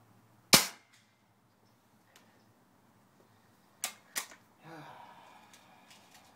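Pellet gun shots at a target 65 yards away: one sharp close crack, then two quicker snapping reports a few seconds later, with faint handling noise and rustle between them in a quiet outdoor setting.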